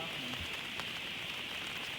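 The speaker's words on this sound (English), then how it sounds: "It's actually started raining, so I'm glad that I brought the tarp out for the hammock setup." Rain pattering steadily on a tarp strung over a hammock at a bush campsite in central west New South Wales, a continuous close hiss with scattered drops and a brief faint voice early on.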